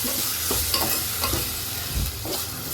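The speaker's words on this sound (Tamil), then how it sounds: "இப்போ நல்லா சுருண்டுருச்சா வெங்காயம் இப்போ வந்து கட் பண்ணி வச்சுருக்க தக்காளி போட்டுடலாம்" Onions and tomatoes fry in a pan for a tangy fish curry, giving a steady sizzle broken by repeated scraping stirs of a spoon every half second or so, close and moderately loud.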